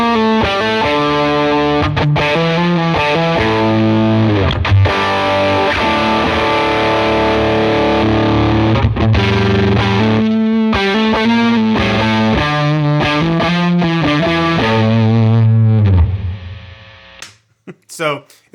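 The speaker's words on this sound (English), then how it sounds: "I have it set, funny enough, to sound more like a distortion than a fuzz" An electric guitar played through a Nero fuzz pedal set to a distortion-like tone, with the tone control all the way up, gives thick, saturated chords and riffs ringing loudly for most of the clip before cutting out near the end.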